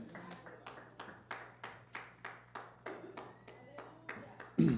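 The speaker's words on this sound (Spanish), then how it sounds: "Dale un fuerte aplauso al Señor." Slow, evenly spaced claps from a church congregation, about one per half second, in a reverberant room over a steady low hum, ending with a louder thump.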